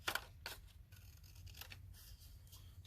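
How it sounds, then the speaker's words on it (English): Scissors snipping paper to shape journal tags at a craft table, a few short crisp cuts spaced apart, close and fairly quiet with no talking. "So we'll whip out the scissors."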